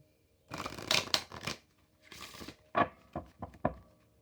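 A deck of Aboriginal Dreamtime and spirit ancestor oracle cards is shuffled loudly and close up, in several quick riffling bursts separated by short pauses.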